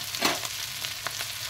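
Potatoes fry in oil in a pan while being turned over, giving a soft, steady sizzle with a couple of quick stirring scrapes, fairly quiet and close, with no voices.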